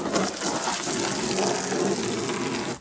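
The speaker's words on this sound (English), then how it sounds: "We're going to fill this up with water." Water runs steadily from a tap into a container, a constant rushing splash that stops abruptly at the end.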